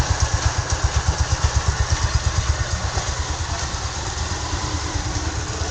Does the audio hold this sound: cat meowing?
no